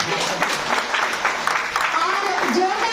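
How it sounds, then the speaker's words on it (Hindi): An audience at a multilingual literary event in Delhi applauds in a steady, fairly loud wash of clapping while a voice speaks over it. "और जोरदार ताली"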